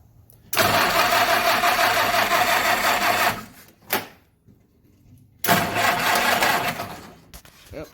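Jeep engine cranking and catching on choke, running roughly in two loud bursts split by a stall and a quiet gap, ragged and uneven.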